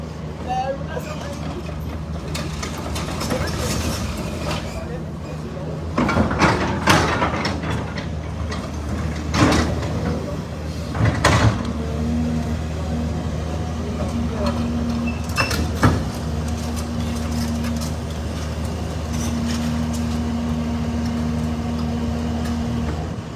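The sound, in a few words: yellow demolition machine moving on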